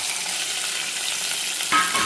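Steady hot-oil sizzling throughout, with a sudden fuller burst of frying near the end as green chillies, bottle gourd and okra pieces are added.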